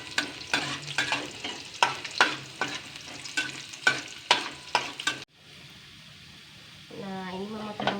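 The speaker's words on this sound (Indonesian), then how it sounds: "mau tumis bumbu kacang biar wangi" Peanut sauce seasoning stir-fried in a pan at home, a spatula scraping rhythmically through the sizzle, then a quieter steady hiss before a voice starts speaking.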